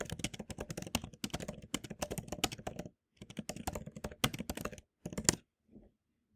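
Fingers type a code comment on a computer keyboard while programming in Lua. Rapid, close key clatter comes in bursts with a brief pause midway, then a few final strokes before silence.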